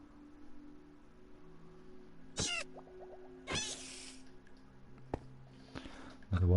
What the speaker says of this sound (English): Oh, you're exactly the wrong colour, white cat.